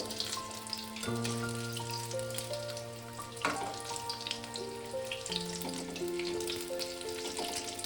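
Tomato chop, a battered Bengali-style fritter, sizzles steadily in hot oil after being flipped, with a constant frying hiss and a sustained droning tone underneath, no voices.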